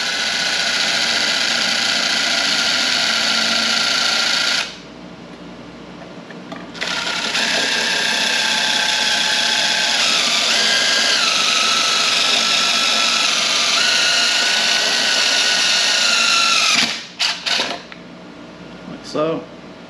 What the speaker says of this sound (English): I'm just going to drill a pilot hole in my chrome.